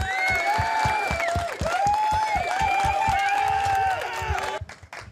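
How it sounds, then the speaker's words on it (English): Event audience applauds the speakers at a credit-themed gathering, with rhythmic clapping beats and crowd cheering under sustained music tones, fading near the end. "give a round of applause for all the speaker guys"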